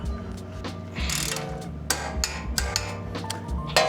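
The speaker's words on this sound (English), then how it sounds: "And then we'll also cinch this nut down too." A ratchet wrench clicks in short rapid bursts while tightening a tie rod castle nut on a Lexus GX460, close and metallic with brief pauses between strokes.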